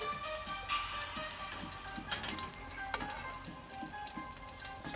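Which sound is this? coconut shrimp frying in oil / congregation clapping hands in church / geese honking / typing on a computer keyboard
coconut shrimp frying in oil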